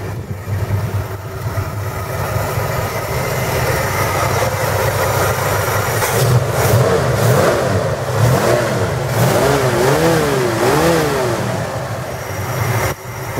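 A deep, cold V8 engine in a 1964 Ford Mustang with headers and a slightly leaking exhaust idles close by, then revs up and down several times in quick, rising and falling bursts.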